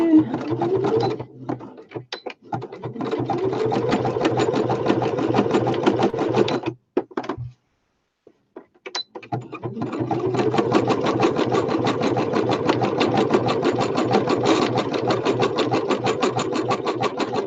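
A sewing machine stitches fabric close by, giving a loud rapid mechanical rattle. It runs in long stretches, stops briefly around the middle, then carries on steadily.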